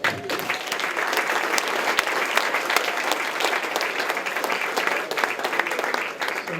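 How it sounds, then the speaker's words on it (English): An audience gives a discussion panel on sober living homes a warm, steady round of applause, dense continuous clapping throughout with a faint voice underneath. "Please give the panel a warm round of applause"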